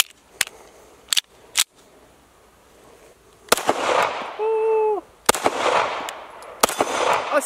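Sharp, loud shots from a Springfield 1911 DS Prodigy double-stack compensated pistol with a 4.25-inch barrel, three quick separate reports followed by two more widely spaced, with a steady tone and noisy background in between.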